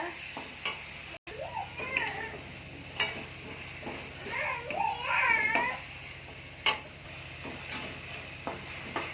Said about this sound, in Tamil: இப்போ இதோடு நம்ம எடுத்து வச்சுருக்க இஞ்சி பூண்டு பேஸ்ட்டை சேர்த்துக்கலாம் சேர்த்து நல்லா வதக்கி விடுங்க